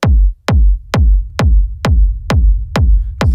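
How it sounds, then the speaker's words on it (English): Eight punchy techno kick drums hit at a steady four-on-the-floor pulse, each leaving a low, continuous reverb rumble that fills the gaps between beats, loud and dry up front with no voices. "It creates easily a rumble using reverb or delay."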